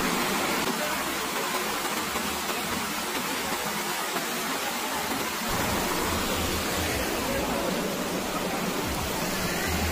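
Seetharkund waterfall near Kollengode in Palakkad pours down in a constant broadband roar of rushing water, dense and unbroken throughout, with no other sounds standing out.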